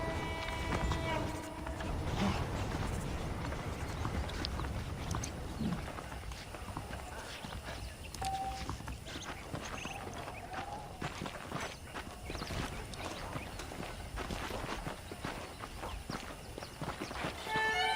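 Horses clip-clopping in the Red Dead Redemption video game, a run of hoof steps on hard ground with a rhythmic gait, heard under other game sounds and occasional voices.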